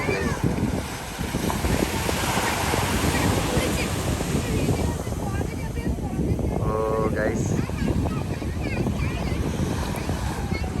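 Sea waves wash up on a beach at night in a steady, loud, unbroken roar of surf with wind rush. A brief faint voice surfaces partway through.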